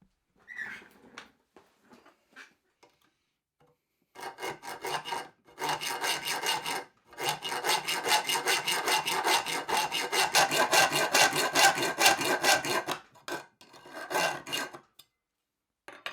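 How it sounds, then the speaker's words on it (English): Hand-forged replica Viking hacksaw sawing, a close, loud rasping in rapid back-and-forth strokes after a few light taps, running steadily for several seconds with brief pauses. "so far the small Viking hacksaw, this hand-forged replica of the small hacksaw, is working out quite good"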